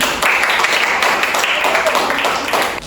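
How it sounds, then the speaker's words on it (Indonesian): A class of students applauds together in a loud, continuous round of clapping that fades slightly at the end. "Tepuk tangan untuk kita semua."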